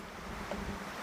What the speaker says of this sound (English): this wind out here is strong today